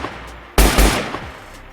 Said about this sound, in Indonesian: Suara tembakan memenuhi udara.